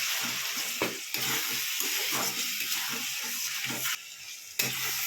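A spice masala is sautéed in a pan for a Sunday lunch: a continuous close sizzling hiss with brief scraping stirs, broken by a few short drops in level where the frying briefly quiets.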